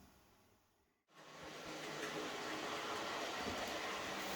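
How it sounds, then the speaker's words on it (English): A Graham Farish 8F model steam locomotive with traction problems makes a test run with its extra coaches removed. After a brief silence, a steady whirring motor and rolling rumble start up and hold evenly and fairly close. "This is just a test run, having removed the extra coaches that I added to the train."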